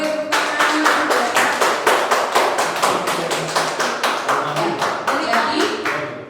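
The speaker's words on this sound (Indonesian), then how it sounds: "Boleh tepuk tangan." Audience at a school teacher-training session clapping in a brisk, regular rhythm, loud and close, each clap distinct in a rapid steady train lasting several seconds.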